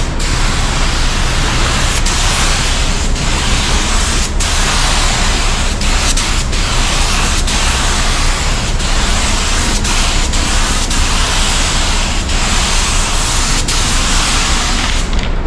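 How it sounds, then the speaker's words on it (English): A spray gun lays clear coat onto a car panel, a steady loud broadband hiss running continuously without a break, with faint clicks scattered through it. "Even if you're spraying where it's not even visible, you want your clear coat to go in there"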